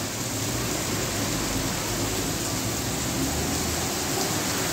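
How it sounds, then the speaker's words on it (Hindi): Heavy rain driven by strong winds on Pattan Road in Garh Maharaja, a loud, continuous hiss of falling water with no pauses and no voices. "ये बारिश हो रही है, यहाँ पर तेज़ हवाओं के साथ बारिश का सिलसिला गढ़ महाराजा में जारी है।"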